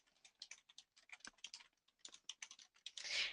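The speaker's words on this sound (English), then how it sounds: "So when I click in here, I'm going to type up Cookie Monsters." Quick, uneven keystrokes on a computer keyboard while text is entered into a spreadsheet cell, a close run of light clicks with no talk, ending in a brief louder burst.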